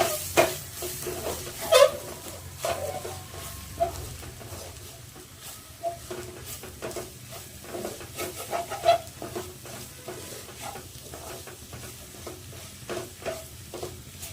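Soft, steady sizzling of masala spice powders dry-roasting in a pan for a crab pepper gravy, with occasional stirring scrapes and clicks, continuous and close.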